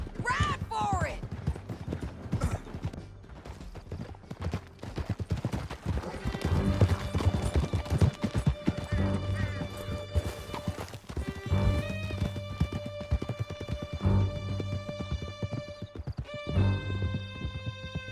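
Horses gallop in Red Dead Redemption 2, a fast, steady clatter of hooves running close and loud through the whole stretch, with whinnies, shouting voices and music layered over it.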